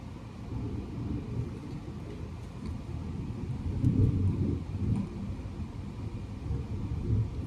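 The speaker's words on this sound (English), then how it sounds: "I can literally feel the thunders" Deep, continuous thunder rumbling from an isolated thunderstorm, heard from indoors, swelling louder near the middle and rolling on steadily with no voices.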